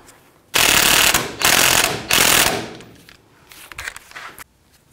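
Outer tie rod on a Ford E250 van being tightened with a ratchet wrench, three loud bursts of rapid close ratcheting clicks, then softer, scattered clicks and metal handling.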